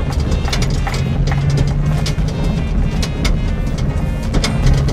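A race car accelerating at low speed, giving a steady, loud close engine drone with a rattling mechanical texture throughout.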